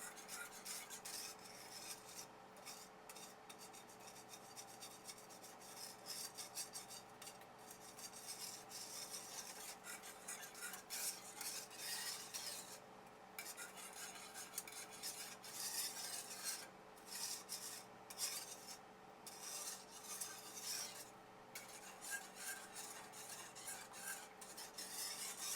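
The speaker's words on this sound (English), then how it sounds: "we're just going to whisk that on in there" A lemon JELL-O and cream cheese glaze is whisked in a bowl, giving a steady, soft, close scraping and swishing that runs without pause at low volume, with no talking.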